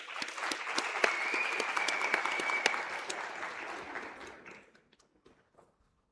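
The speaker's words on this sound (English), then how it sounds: "With a round of applause," Audience applause for the keynote speaker at a Women's Day commemoration seminar, a sustained wash of many hands clapping that holds steady for about four seconds, then tapers off and fades into a few scattered claps.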